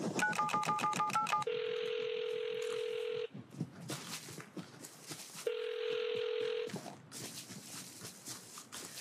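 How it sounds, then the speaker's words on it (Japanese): Telephone call being placed during a RUST game session: a rapid run of dialing beeps, then two long steady ringback tones separated by a pause, with faint background noise and no speech. "すいません電話かけますすいません"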